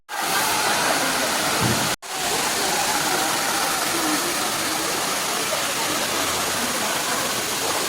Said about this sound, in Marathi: हा तिसरा स्पॉट आहे नाणी वॉटरफॉल.